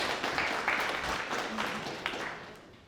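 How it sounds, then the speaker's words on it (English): Applause from an audience at a marketing webinar event fills the whole moment, a steady dense patter of clapping at moderate loudness that thins slightly toward the end, with faint voices mixed underneath. "round of applause, everyone"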